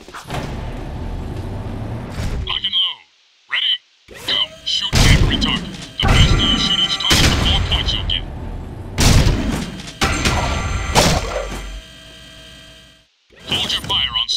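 Scattergun blasts on a Jak II firing course: a series of loud, booming shots separated by short silences, with voices speaking between them.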